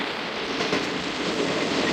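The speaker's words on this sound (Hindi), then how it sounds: "coat Radha Kishan railway station पास हो रही है ट्रेन हमारी" The Karachi Express rolls past Kot Radha Kishan railway station in daytime, a steady close rumble of wheels and carriages with faint rhythmic clatter, no voices.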